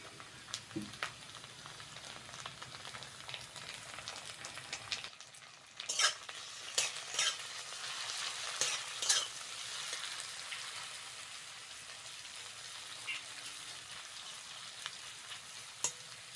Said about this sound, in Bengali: চিংড়ি মাছটা ভালো করে ভেজে নিয়েছি